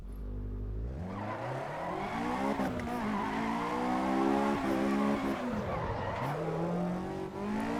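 Caterham 7 485 CSR Final Edition in a racing video game: loud engine revving up through the gears with rising and falling pitch, a brief tire squeal, steady close drive with no talk.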